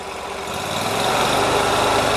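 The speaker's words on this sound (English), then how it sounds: "So if we now give it some rev and engage the flail, and we'll start cutting." A tractor engine revs up as a flail mower engages, a dense, steady mechanical roar that swells in loudness and then holds strong and close.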